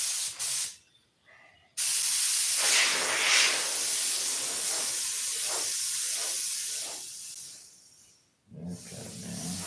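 An airbrush blasts compressed air in loud, harsh hissing bursts: a short spurt, a brief pause, then a long sustained spray that cuts off near the end.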